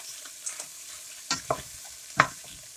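Vegetables in a home stir fry pan, cooked crisp, give a quiet steady sizzle under a few sharp clatters of stirring utensils against the pan, with no voices.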